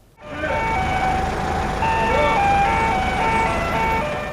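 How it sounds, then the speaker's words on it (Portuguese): A selective waste collection truck plays a loud, continuous electronic jingle on the street over a steady engine rumble, the melody repeating without talk. "A música anuncia a passada do caminhão da coleta seletiva."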